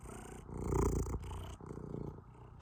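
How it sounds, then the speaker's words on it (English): A cat purrs close up with a loud, rumbling, motor-like throb, pulsing steadily with each breath, alone without talk. "I should have named her Harley, because her motor sounds like a"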